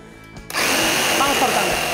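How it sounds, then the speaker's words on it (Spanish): Jigsaw starting up to cut the legs off a vintage piece of furniture, a sudden loud steady buzzing whine that kicks in after a quiet moment and runs to the end. "le vamos a cortar las patas. Por aquí, apoyamos la sierra de calar y ya en marcha"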